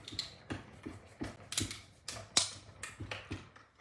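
A hand-cranked die-cutting machine feeds a tiny curved Christmas die through, giving a steady run of close, sharp clicking and ratcheting knocks about every half second, with no voices.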